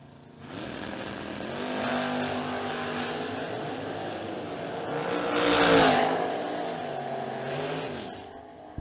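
Drag race pairing a Pontiac Trans Am against a Chevrolet S10: loud, sustained engine roar with shifting revs, swelling to a peak midway before easing, heard close and without speech.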